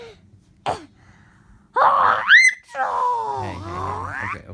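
A young child and a dad playfully fake snoring, with a voice imitating the sound through exaggerated wailing, gasping and groaning breaths that rise and fall, including a sharp snort and a long moaning snore-like drone.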